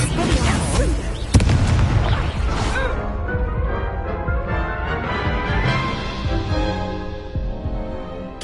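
Spell-combat effects from the Hogwarts Legacy video game, a dense rush of booming bursts and crashing magical impacts, loud and continuous, with a sharp hit near the start and a ringing tail as the action settles.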